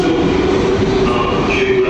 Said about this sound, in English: Now we're underground, I think I've just missed a tube train.